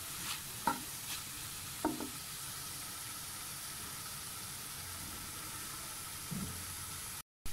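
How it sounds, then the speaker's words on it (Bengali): Seasoned pizza filling stirred in a pan on medium heat after black pepper goes in, a faint constant sizzle with a few soft spoon scrapes, quiet and close, ending in a brief drop to silence. "আমি নেড়ে নিচ্ছি"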